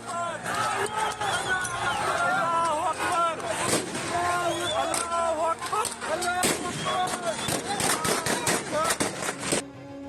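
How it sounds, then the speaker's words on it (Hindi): Sharp gunshots crack repeatedly as the army fires on a protesting crowd in Pakistan, amid loud, chaotic crowd noise with shouting voices throughout. "प्रदर्शन कर रही भीड़ पर सेना कैसे गोलियां चला रही है, ये भी देखिए और सुनिए"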